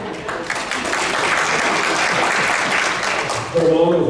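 Dense applause from an audience at a cooking demonstration, steady and fairly loud for about three and a half seconds, with a voice breaking in near the end.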